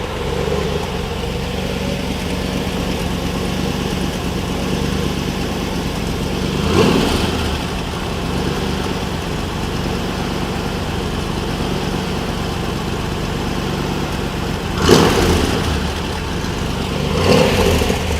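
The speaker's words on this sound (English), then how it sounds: "There she goes. Fuelie fires up." A 1964 fuel-injected Corvette engine runs at a steady idle, a loud continuous rumble with a few swelling blips of revving spaced through the running.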